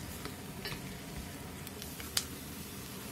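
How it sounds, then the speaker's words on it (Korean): Squid, radish and onion stir-fried in a pot with minced garlic and soy sauce, giving a soft continuous sizzle with light stirring scrapes and one brief clink near the end. "볶아주세요."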